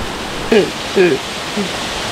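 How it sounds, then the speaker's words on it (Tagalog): A small waterfall rushes as a steady broadband hiss throughout, with brief bursts of nearby talk over it. "May mini falls and mini hanging bridge."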